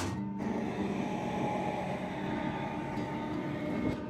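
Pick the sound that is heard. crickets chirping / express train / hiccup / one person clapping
express train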